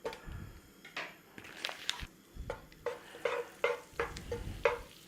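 Onion and garlic frying in rice bran oil and butter, a soft sizzle broken by repeated scraping stirs of a utensil in the pan, close and fairly quiet.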